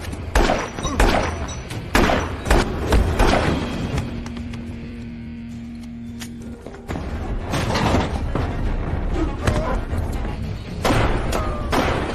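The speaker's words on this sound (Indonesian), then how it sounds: "tiba-tiba terdengar suara tembakan" Several loud, sharp gunshot bangs burst out in clusters, separated by a quieter stretch with a steady low hum, against a busy film soundtrack in an action film about an ex-soldier fighting yakuza.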